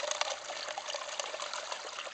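Water from a hose fed by a spring spills steadily over a small waterfall step in a sluice box carrying clay-laden gravel, a continuous near splashing trickle with no voices.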